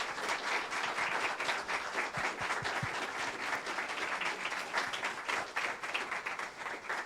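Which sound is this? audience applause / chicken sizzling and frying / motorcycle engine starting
audience applause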